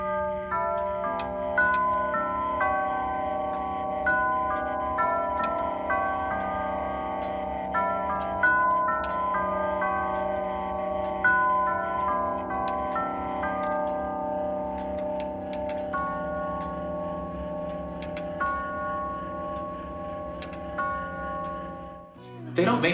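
An antique colonial tallcase clock ticks in a steady, close rhythm, its hood removed, over a dense sustained musical background of layered tones that fills the whole passage before cutting off near the end.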